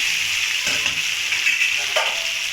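Tomatoes and potatoes are stirred in a hot pan for egg curry, a steady sizzle of frying broken by a few soft scrapes and knocks of the spoon against the pan, close by and without voices.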